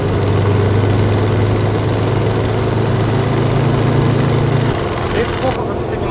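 An air-cooled Volkswagen Beetle engine drones steadily from inside the moving car, a loud low hum that shifts character near the end as the car picks up speed.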